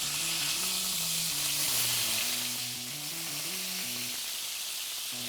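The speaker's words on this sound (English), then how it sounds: "in the pan with the leftover bacon grease, we're gonna go ahead and take these really beautiful brioche buns and get those toasted" Brioche buns toast in leftover bacon grease in a pan, giving a steady, even sizzle with a soft hiss throughout. Background music plays underneath.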